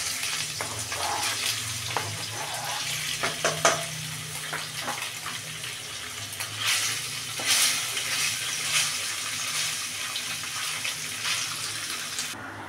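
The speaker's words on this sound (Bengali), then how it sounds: "তেলটা গরম হয়ে গেছে, এবার এর মধ্যে আমি পনিরগুলো আস্তে আস্তে দিয়ে দিই।" Pieces of paneer fry in hot oil with a loud, close, continuous sizzle and bursts of crackling, with occasional stirring and clatter in the pan, and no voices.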